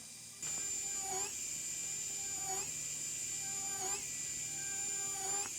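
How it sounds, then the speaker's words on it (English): A high-speed dental handpiece drills sewing holes through tough, thick leather. Its shrill, steady whine runs continuously, and the pitch dips briefly and regularly as each hole is bored. "I use my high-speed handpiece to make holes for sewing"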